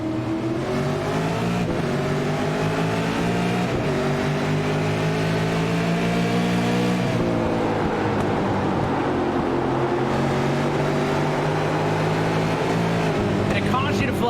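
An iRacing race car on a restart, heard from the driver's seat of the number 2 car, roars loudly and continuously, its engine pitch climbing and dropping through gear changes, with commentary over the top.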